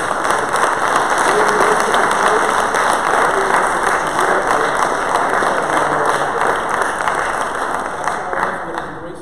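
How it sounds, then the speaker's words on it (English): Congregation applause in a church service, loud, dense and sustained clapping from many hands filling the room evenly, with faint voices mixed in. "Give the Lord a round of applause"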